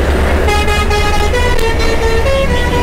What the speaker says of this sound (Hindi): देखो पीछे से हॉर्न सुन रहे हो आप,